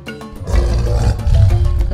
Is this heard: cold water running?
no